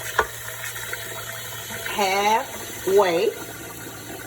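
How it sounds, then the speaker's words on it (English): Running tap water fills a cooking pot for grits with a steady, moderate rushing hiss, broken by a couple of short spoken words from a nearby voice. "And then I'm going to fill the pot"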